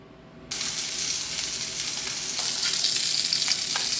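Thala fish hits hot oil with a sudden loud sizzle that keeps crackling and bubbling steadily, swelling a little louder partway through, with no voices.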